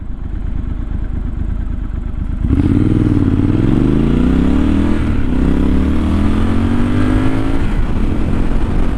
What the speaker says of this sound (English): Let's try 0 to 60, rolling start once again. All the way down to first gear.